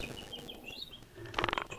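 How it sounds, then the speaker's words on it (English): A bird chirps in a quick burst of several bright notes near the end, heard in a graveyard setting over a low background murmur. "I'm hearing a bird of some sort"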